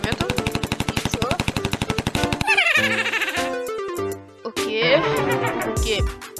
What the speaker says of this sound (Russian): Стреляет с пулемета